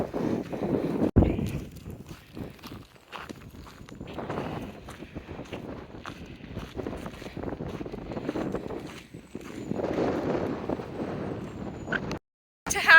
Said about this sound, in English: Tehachapi is known for being windy, which is why there's windmills everywhere.